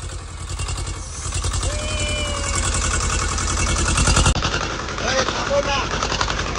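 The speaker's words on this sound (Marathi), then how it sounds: "आता ट्रॅक्टर आलाय." A farm tractor's engine chugs in with a loud, rapid, steady putter close by, holding a constant rhythm as people talk and call out over it.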